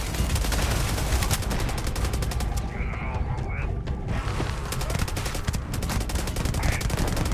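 Rapid gunfire from a turret in the video game Starfield, dense bursts of shots running loud and nearly continuous throughout, with a couple of short whistling tones in the middle.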